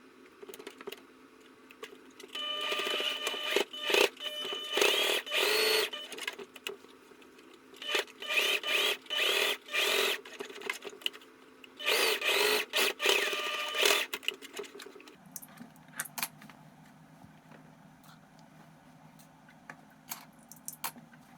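A sewing machine stitches a seam around a medium fabric bag in several whirring bursts separated by short pauses. Near the end it settles into a lower, steadier hum, heard faintly and close by with no voices.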